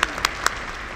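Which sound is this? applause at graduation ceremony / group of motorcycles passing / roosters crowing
applause at graduation ceremony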